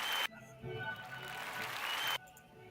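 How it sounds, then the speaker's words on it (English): A burst of applause-style hand claps, about two seconds long, starts and stops abruptly like an inserted sound effect, fairly quiet and with no talking over it. "I had to put the hand claps on for you"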